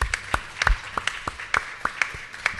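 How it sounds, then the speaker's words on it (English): Sparse clapping from a convention audience at a panel on race and inequality, a handful of distinct sharp claps spaced irregularly and fairly close, as the applause trails off. "Let us give him a hand of applause."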